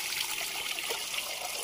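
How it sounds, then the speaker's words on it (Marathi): Chicken stock pours into a cooking pot in a steady, close trickling stream, a soft continuous splash with no voices. "हे चिकनचं पाणी टाकूया."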